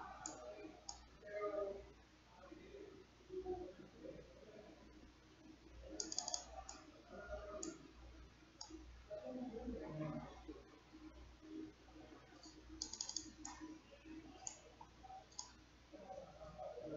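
Computer mouse clicks in medical imaging software, heard as sharp ticks that are sometimes doubled, spread across the span under soft keyboard-like tapping and faint background activity.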